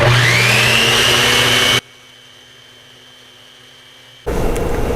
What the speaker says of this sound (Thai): ก็ทำการปั่น